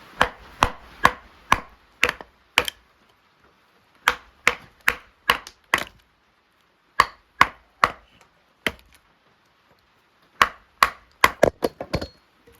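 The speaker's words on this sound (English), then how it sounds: "sometimes you need to cut down a tree, and you could use cross-cut batoning as a technique for that" A survival knife with a clip point is batoned crosswise into a tree to fell it. Sharp wooden thwacks come in quick bursts of several strikes separated by short pauses, loud and close, with no talk.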